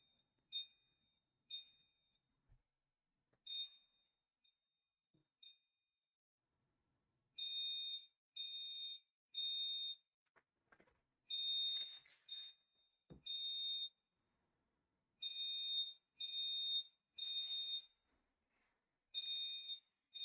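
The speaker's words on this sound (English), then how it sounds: "It's a building alarm." Building fire alarm beeping in repeated bursts of loud, shrill electronic tones with short pauses between groups, heard alone in an indoor hallway.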